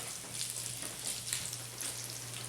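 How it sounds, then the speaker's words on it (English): Bacon frying in a pot until crispy, a steady close sizzle and crackle with no talking, for a loaded baked potato soup. "first you need to cook your bacon until crispy"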